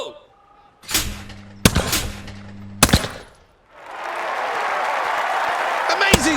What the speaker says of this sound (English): Terrific shooting here.